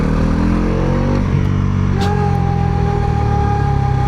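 A Bajaj Pulsar NS 400Z naked street-fighter motorcycle with a bi-directional quickshifter holds a loud, close engine drone, its pitch shifting partway through without a break.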